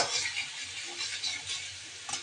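Ginger paste, cumin and turmeric with onion and green chili sautéed and stirred in a pan, a soft, fairly quiet sizzle with light scraping as the spices are stirred, no voices.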